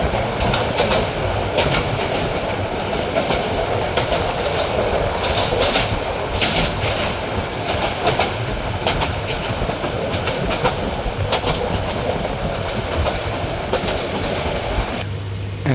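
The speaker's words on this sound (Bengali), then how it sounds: "ট্রেনটি কিন্তু এখন থ্রুপাস করে যাচ্ছে ফেনী রেলওয়ে জংশন" The Porjotok Express rolls through Feni railway junction, heard from on board at night, with loud continuous wheel rumble, rhythmic clickety-clack over the rail joints and sharp bursts of clatter at the points.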